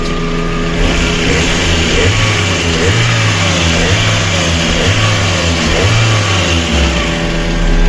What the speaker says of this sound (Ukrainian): Просто шепче моторчик.